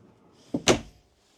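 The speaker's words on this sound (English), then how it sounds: "They always do a great job with their construction of their drawers. Full extension drawer glides." A drawer on full-extension glides in a 2015 Newmar Dutchstar 4002 motorhome slides and shuts with a quick, close double thump, short and alone in a quiet interior.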